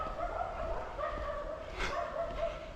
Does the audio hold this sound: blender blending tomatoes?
no